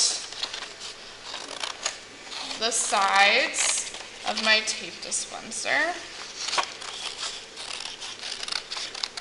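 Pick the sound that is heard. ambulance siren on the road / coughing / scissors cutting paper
scissors cutting paper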